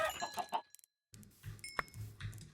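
Chickens in the Minecraft video game cluck in a few short, close bursts, with a brief gap of silence between them.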